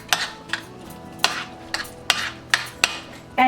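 Chopped apples mixed with mayonnaise in a bowl for Russian salad, a run of about eight sharp spoon-and-bowl clacks and scrapes in uneven rhythm, close and fairly loud.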